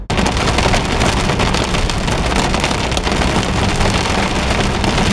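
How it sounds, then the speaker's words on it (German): Hail and heavy rain pour down continuously, a dense, loud, steady roar of drops with no breaks, close to the microphone and heard on its own without any talk. "Es hagelt, es pisst."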